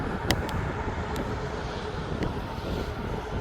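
Airliner turning south at East Midlands Airport, a steady distant engine roar with a few brief higher clicks over a constant broadband hum.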